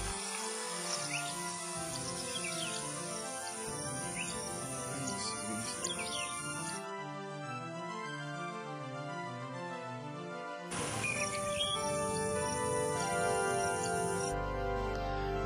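A finch lark sings in Indian open country, perched on a wire, with a rich run of whistling notes mixed with quick chirps, continuous and fairly close, briefly thinning before the song swells again.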